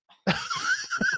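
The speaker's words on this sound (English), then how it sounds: "Everyone's got a dry cough." A single short, dry cough bursts out close up, followed by a few breathy, laugh-like exhalations.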